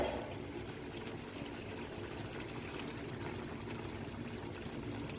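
Oil pours into a cooking pot of sauce with a steady, continuous liquid hiss and trickle, close and moderately quiet, running alone without talking.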